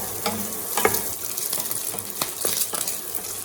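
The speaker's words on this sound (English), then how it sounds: "add a little oil to the pan, then toss in the sausages and stir evenly" Sausages frying in an oiled pan while being stirred and tossed, a steady close sizzle broken by irregular scrapes and clatters of the utensil against the pan, with no talking.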